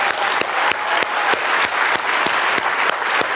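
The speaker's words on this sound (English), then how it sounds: "Let's give him a huge round of applause." Loud applause from a crowd at a 2018 chiropractic convention in Las Vegas, with many hands clapping close and strong and distinct, evenly spaced claps standing out through the steady roar.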